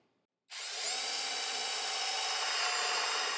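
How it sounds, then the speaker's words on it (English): A power drill with a spade bit bores into plywood after a short silence, a steady loud whirring grind that holds for a few seconds up close. "lay a piece of scrap plywood underneath it and drill this dude out"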